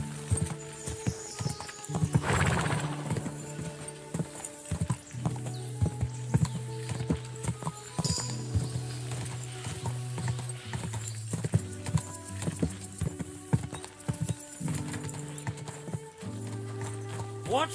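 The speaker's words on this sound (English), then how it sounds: "People ride horses through here too, you know." Steady hoof clip-clop of a horse being ridden in the medieval video game Kingdom Come Deliverance 2, rhythmic and continuous for the whole stretch, with a brief whinny and voices talking over it.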